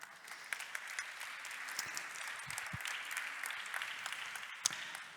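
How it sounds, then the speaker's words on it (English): A conference audience gives applause to a Member of the European Parliament after a talk, a faint, steady patter of clapping heard from a distance with a few louder claps and thumps close by. "A warm round of applause for our MEP"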